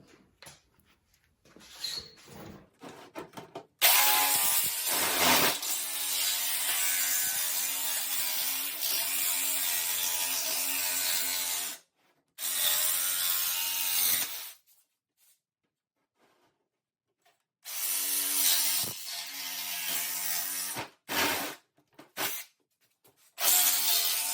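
A fine-tooth saw cuts a patch out of the metal body of a 1974 VW Thing in a shop, a loud, steady rasping in several long bursts separated by short pauses, with no talking.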